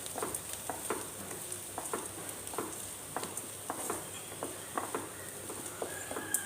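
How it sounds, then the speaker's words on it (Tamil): Cassava pieces are sautéed in a pan with softened onions, giving a soft, steady sizzle broken by regular spatula scrapes and taps, close and moderately quiet. "இந்த மரவள்ளி கிழங்கு இதிலே போட்டுக்கலாங்க ரொம்ப வதக்கோன்னா கொஞ்சம் லேசாக வதக்கி எடுத்துடலாம்"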